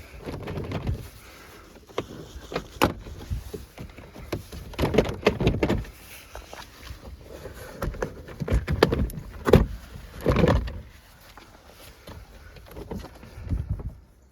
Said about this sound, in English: Now we're just going to lift this panel up.